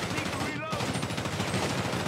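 Dense, rapid gunfire rattles continuously in a chaotic Grand Theft Auto V police shootout, loud and close with overlapping bursts throughout.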